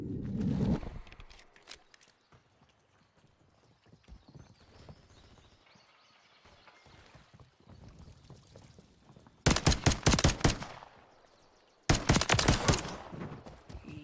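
Gunfire in a video game, two loud, dense bursts of rapid shots near the end, each lasting a couple of seconds. Before them come quieter game sounds, including what seem to be hoofbeats.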